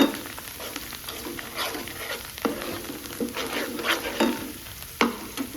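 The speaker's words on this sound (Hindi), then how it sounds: "अभी हम इसको तड़का लगा ले फिर जब उसमें डालेंगे ना दाल में" A tadka tempering for dal sizzles steadily in a hot pan, a continuous frying hiss broken by a few sharp clicks and spatters, with no talking.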